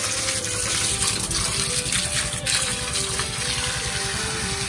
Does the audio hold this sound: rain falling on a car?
no